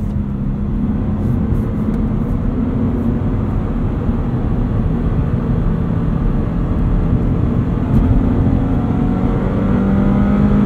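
A 2022 Subaru BRZ cruising on the highway at speed, a steady loud drone of engine and road noise from inside the cabin with no break and no talking.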